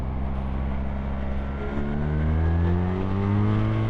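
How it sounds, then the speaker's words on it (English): A BMW R1300R motorcycle accelerates hard, its engine note climbing steadily through the revs with a brief shift partway, loud and close with road and wind noise underneath. "Do a bit of accelerating."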